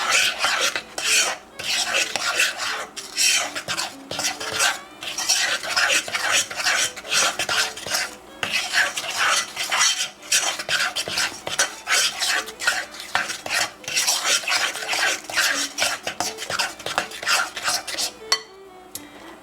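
Dry ingredients being stirred into chocolate oatmeal zucchini cookie dough in a bowl, close rhythmic scraping and knocking strokes of a spoon against the bowl, repeating steadily for many seconds with brief pauses.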